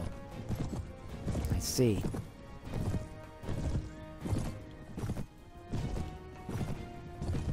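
Horses gallop into battle in Mount & Blade Warband, their hoofbeats coming in rhythmic bursts of clopping along with a whinny near the start, while a voice speaks briefly over the medium-loud commotion.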